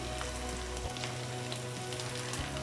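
Boiled potatoes frying in oil for a Bengali aloo posto fish curry, a steady close crackling sizzle with fine popping throughout and a faint low hum, no talk.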